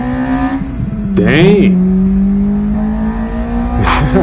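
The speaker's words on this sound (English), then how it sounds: "That VVC crossover is aggressive." Toyota Sportivo with a 2ZZ engine revving through its VVTL cam crossover, a rising engine note that sweeps up sharply then settles into a steady hum, with people talking over it.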